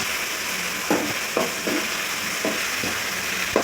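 Onions and tomatoes sautéing in a pan for chicken curry, a soft continuous sizzle broken by several light scrapes and taps of a spatula; no talking.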